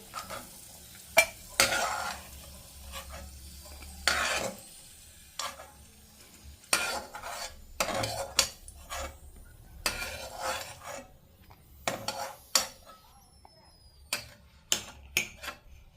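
Raisins frying in a pan for semiya kesari: soft sizzling under intermittent sharp scrapes and clinks of a spatula against the pan, close by.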